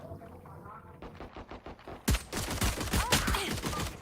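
Bursts of rapid gunfire from a Valorant match ring out, quieter volleys at first, then a loud, dense stretch of close-range shots and impacts filling the second half.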